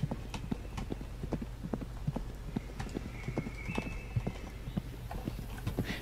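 Horse hooves clip-clop at a steady walking rhythm in the War of the Worlds survival game, close and fairly quiet, with a brief whinny-like tone in the middle.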